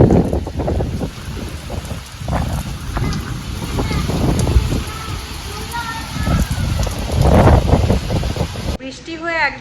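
Steady heavy rain falling outside a house, a dense continuous wash of noise with scattered drop impacts, close and fairly loud throughout before cutting off near the end.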